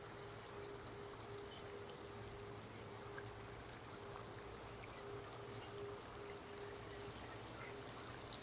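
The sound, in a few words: small fountain creating a little waterfall, trickling water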